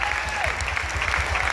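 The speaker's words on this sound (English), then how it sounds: "Yeah, we can clap for that." A gathered audience breaks into dense, sustained applause at a community event, with a faint voice or cheer sweeping across the clapping.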